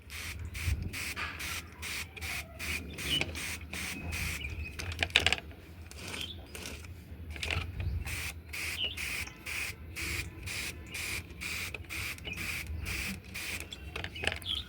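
Sunflower seeds in a pot are watered with quick, evenly spaced spritzes of spray, a soft rhythmic hiss repeating steadily and close by.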